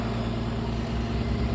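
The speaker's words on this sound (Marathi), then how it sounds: "गाडी लगेच चालू आहे" A vehicle engine idles steadily at a band's sound check, a low continuous rumble with a faint vibrating hum, close and even throughout with no talk.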